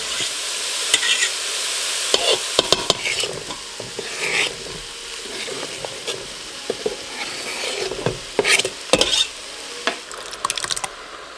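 Meat with garlic and onion sautéing in an Instant Pot, a strong steady sizzle with frequent clattering scrapes and taps of a stirring utensil against the pot.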